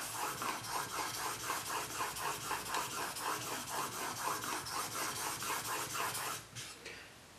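A steel plane blade for an old No. 7 hand plane is sharpened on a sharpening stone, giving a steady, close rasping scrape in even back-and-forth strokes that stops near the end.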